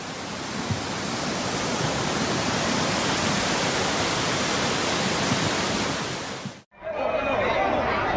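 Flash flood water roars through city streets in a loud, steady, broadband rush that stops abruptly near the end, followed by a brief quieter mix of background sound.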